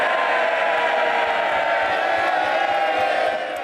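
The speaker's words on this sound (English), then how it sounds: "there's the applause from the Conservative benches there for Rishi Sunak" Applause and cheering from the Conservative benches in the House of Commons after Rishi Sunak's 2021 Budget speech: a loud, dense, sustained wash of clapping and voices from a packed chamber that holds steady and eases slightly at the end.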